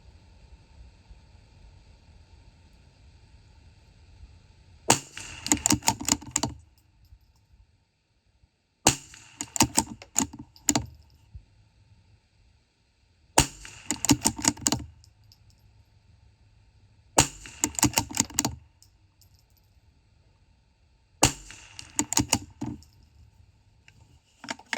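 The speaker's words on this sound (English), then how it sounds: "Move over here, shoot another 5-shot group." Rifle firing five-shot groups on an outdoor range during a long-range scope test, heard as five separate clusters of sharp, loud cracks spaced several seconds apart, with quiet in between.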